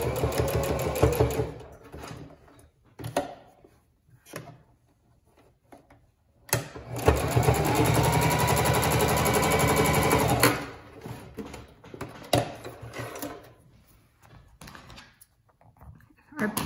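Sewing machine top stitching fabric about an eighth of an inch from the edge, a steady motor whir running for several seconds between shorter bursts and handling clicks.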